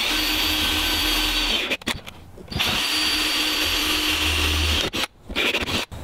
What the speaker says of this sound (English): So all we're gonna do is just dot a little couple of pilot holes in, we're gonna screw some screws in